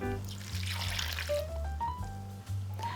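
Water poured into a pot holding cauliflower, a whole garlic clove, a bay leaf and salt, a quiet close trickle and splash running throughout over a low steady hum.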